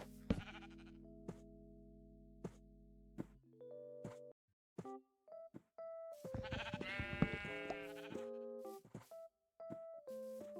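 Sheep bleating in Minecraft: several separate bleats spread out one after another, with chiming game tones between them and no talking.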